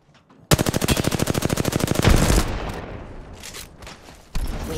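Automatic gunfire in the video game Apex Legends rattles in a fast, loud burst of evenly spaced shots lasting about two seconds, followed by decaying impacts and echoes and another sharp blast at the end.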